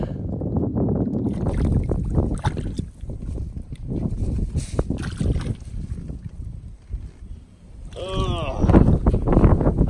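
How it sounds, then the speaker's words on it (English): Wind gusts buffet the microphone on open water while fishing from a boat, rumbling bursts of varying strength, with someone speaking over it. "Wind's starting to really pick up on us here."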